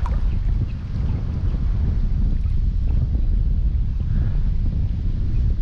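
Strong wind buffets a small fishing boat at sea, a dense low roar of gusts hitting the microphone continuously and loudly for the whole stretch, with no talk.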